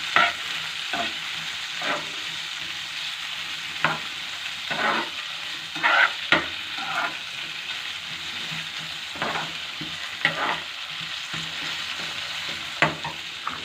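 Fried carrots, peas and chicken being stirred into noodles in a pan, a repeated scraping of a spatula against metal over a low sizzle, close and rhythmic, with pauses between strokes.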